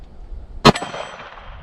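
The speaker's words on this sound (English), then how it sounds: "Let's go ahead for the MGM gong." A .45 ACP round from a 1911 pistol strikes an MGM steel gong target, producing one sharp, loud metallic clang that rings briefly before decaying into quiet outdoor background.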